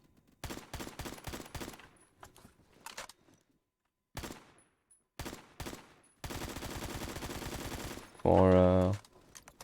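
AKM assault rifle fire in the Phantom Forces shooter game, in several rapid bursts of shots separated by pauses, followed by a longer sustained stretch of fire and a loud tonal sound at the end.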